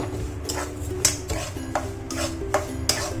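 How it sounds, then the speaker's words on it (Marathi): A spoon stirs Hapus mango pulp with sugar in a metal pan for a mango sheera, giving a series of light, regular clinks and scrapes against the pan at close range over a low hum. "आता आपण मिक्स करून घेऊ त्या"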